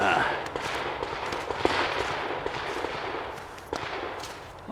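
A Glock 44 .22 pistol fires CCI rounds at an outdoor range, producing a few sharp, fairly faint cracks spaced irregularly over a steady noisy background.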